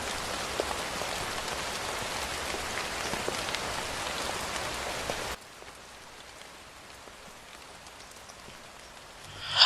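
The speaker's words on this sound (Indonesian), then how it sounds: "Astaga Cia, kamu ngapain hujan-hujanan gini?" Steady rain pours down in a Sakura School drama scene, a dense loud hiss for about five seconds before dropping abruptly to a softer, quieter patter, with no voices.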